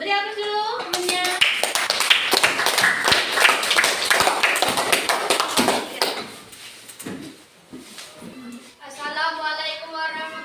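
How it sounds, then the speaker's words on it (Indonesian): Classroom applause for a student, a burst of many hands clapping close by for several seconds that thins out and fades, with pupils' voices talking before it starts and again after it dies down. "Beri aplaus dulu temannya."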